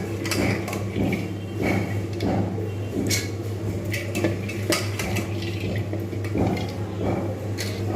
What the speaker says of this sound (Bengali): জাস্ট এই ডালটা আমি শুধু খালি মিক্সিতে পিষে নিয়ে চলে আসছি